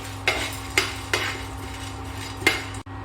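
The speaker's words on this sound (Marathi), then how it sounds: "थोडीशी ही डाळी पण परतून घ्यायचे भाजलेच असतात पण थोडेसे गरम करून घ्यायचे" A utensil scrapes and taps against a pan while split chickpea dal is stirred and warmed for tilgul, with a few sharp clinks at irregular intervals over a quiet background.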